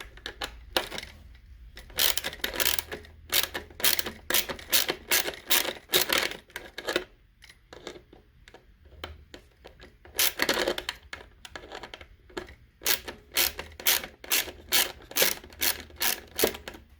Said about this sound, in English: you only gotta get a 7mm socket and just remove these 4 screws